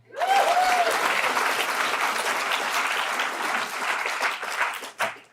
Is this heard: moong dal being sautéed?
no